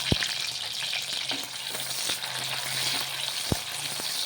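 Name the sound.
onions frying in hot oil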